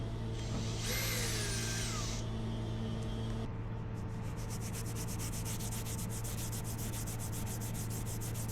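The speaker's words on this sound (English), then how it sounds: "a rag soaked in white spirit stuffed up the end for a bit, and a good scrub manages to deal with it" Old sealer being scrubbed out of a boat's rudder bearing receptacles with a white-spirit-soaked rag: a continuous close rubbing and scouring noise, steady and fairly faint, later turning into a fast rhythmic scrub.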